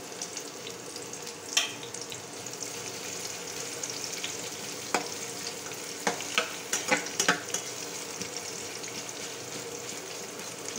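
Chopped onions frying in a pan with a steady sizzle, punctuated by several clinking scrapes of stirring, one early and a cluster later, close and alone.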